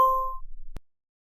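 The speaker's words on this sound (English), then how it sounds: "let me check my cell phone. I think I received a notification" A smartphone notification chime: a single bright, clear electronic ding that rings out at the start and fades within half a second, followed by a faint short tick in otherwise quiet surroundings.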